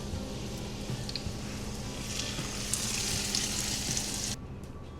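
Zucchini slices frying in oil give a steady, close sizzle that holds for about four seconds, then drops away suddenly, with a short clatter at the very end.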